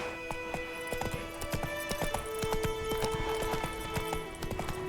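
A horse gallops in The Witcher 3: Wild Hunt, its rapid clip-clop hoofbeats steady and close, with a brief whinny mixed into the quiet game sound.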